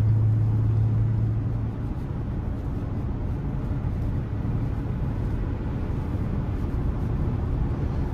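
A 2004 Ford F-350 XL single-rear-wheel truck with a 6.8-litre V10 driving at speed, its steady low engine drone and road noise continuous throughout from inside the cab.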